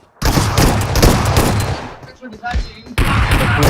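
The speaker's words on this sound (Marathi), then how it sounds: "शॉटगन बेकार मारतोय" Shotgun blasts in a 2v2 match of a multiplayer shooter game, loud dense gunfire crackling almost continuously with a brief lull near the end before another burst.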